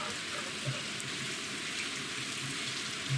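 Steady rain hissing down in a video game, an even, soft wash of falling drops with faint occasional low taps, continuous and fairly quiet throughout with no voices.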